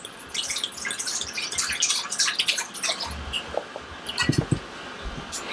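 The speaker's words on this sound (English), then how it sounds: "what I do is I take my singing bowl and I just pour water" Water poured into a singing bowl gives a quiet run of bright drips and trickles, splashing irregularly and close by, with a few lower plops toward the end.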